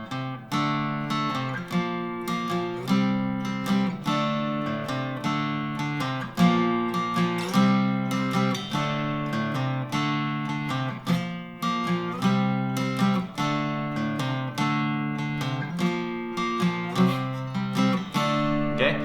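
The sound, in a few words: guitar riff with pushed chord changes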